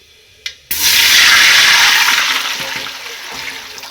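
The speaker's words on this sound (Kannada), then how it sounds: "ನೀರು ಹಾಕಿಬಿಡನ್ರಿ." Water is poured into a cooking pot for rice, starting as a sudden loud, close gush that keeps rushing and then slowly eases, after a brief knock just before it.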